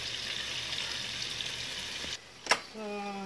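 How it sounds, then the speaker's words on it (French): A big onion sizzles in hot oil, frying halfway for a Cameroonian ndolé dish, giving a steady, close hiss that cuts out abruptly near the end before a brief clatter and a faint tonal sound. "So this is another big onion that I'm going to fry halfway just for decoration."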